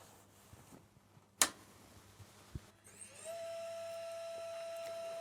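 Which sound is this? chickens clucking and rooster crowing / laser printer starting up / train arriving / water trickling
laser printer starting up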